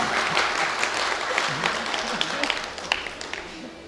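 Audience at a Tamil comedy pattimandram debate event breaking into applause, a dense, steady wash of clapping from a large crowd that gradually thins and softens with scattered sharper claps near the end.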